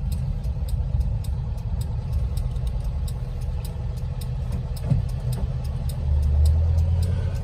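Volkswagen campervan engine rumbles steadily from inside the cabin while driving toward Jaywick, a low continuous drone that swells slightly louder near the end.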